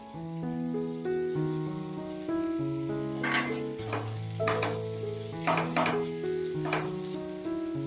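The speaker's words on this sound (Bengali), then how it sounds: "এইভাবে লাল লাল করে ভাজা হয়ে গেলে এইবারে আমি কাঁচা লঙ্কাটা দিয়ে দেবো" Green chillies fry in a hot pan with a spiced potato and cabbage filling, giving bursts of crackling sizzle partway through under steady background music.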